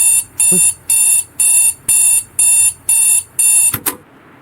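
An alarm clock rings in a horror video game, seven loud, regular bursts of bright electronic ringing with short gaps, ending abruptly with a brief clatter and then near silence.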